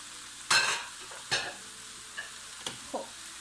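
In a cooking pot, meat and marrow bone pieces are stirred and frying. A few bursts of scraping and sizzle stand out, each followed by a softer clink, over a quiet background.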